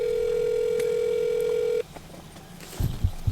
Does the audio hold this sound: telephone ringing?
yes